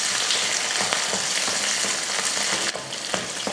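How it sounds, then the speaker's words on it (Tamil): Small chopped onions and curry leaves fry in hot oil with popped mustard seeds, giving a close, continuous crackling sizzle punctuated by occasional sharp pops and light stirring scrapes. "கடுகு பொரிஞ்சதுமே கொஞ்சம் கருவேப்பிலை, சின்ன வெங்காயம் 100 கிராம் அதை வந்து சின்னதாக கட் பண்ணி சேர்த்துருக்கேன்."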